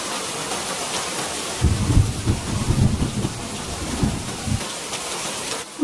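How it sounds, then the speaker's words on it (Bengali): Heavy rain pours steadily throughout while deep thunder rumbles and rolls through the middle, fading back to the downpour. "এত বৃষ্টি হচ্ছে যে আরেকটু হলে ঘরে পানি উঠে যাবে"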